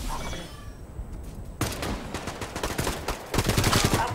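Rapid bursts of gunfire in the video game Caliber, automatic weapons rattling in dense volleys that grow louder and more continuous toward the end.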